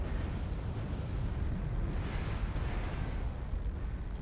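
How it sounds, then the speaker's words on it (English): A missile explosion in Mechwarrior Online roars as a loud, continuous low rumble with dense broadband noise, holding steady for the full stretch without pause and with no voices. "Warning, incoming missile."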